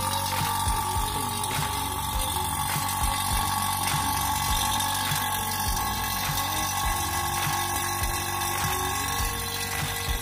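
A vacuum pump runs steadily to evacuate the refrigerant system of a freezer box under repair for a leak, with a replaced capillary tube and condenser, giving a continuous mechanical drone with faint rhythmic ticking throughout.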